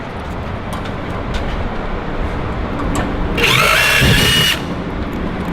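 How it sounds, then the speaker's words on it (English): A steady mechanical whir over background noise, then a brief higher-pitched power drill burst near the end that cuts off abruptly, drilling out a centered hole while installing a front splitter on a Dodge Challenger. "Now Dave, he's going to drill it out."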